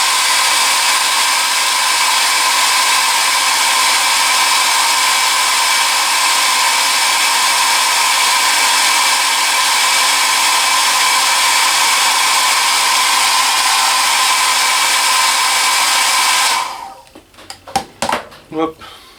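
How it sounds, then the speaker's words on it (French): A hair dryer blows steadily and loudly on a decal being stuck back down during a model build, a constant roar that cuts off near the end, followed by a few brief handling knocks. "Je vais remettre un coup de sèche-cheveux."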